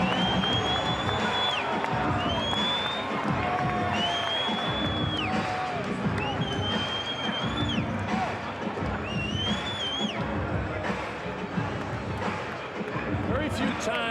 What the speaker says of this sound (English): Very few times, Dave, have I seen the entire crowd on its feet in an arena for the introduction to fighters.